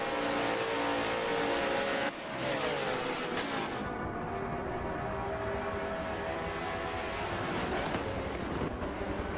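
GT race cars, a Change Racing Lamborghini and a Porsche, run at Sebring, their engines a loud sustained roar with a pass around two seconds and heavy wind buffeting over the microphone.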